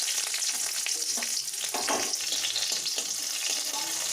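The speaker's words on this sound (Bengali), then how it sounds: "একটু ভালো করে ভেজে নিচ্ছি রসুন ও লঙ্কাগুলোকে।" Garlic and green chilies fry in oil in a wok, giving a steady close sizzle with crackling pops and a few stirring scrapes throughout.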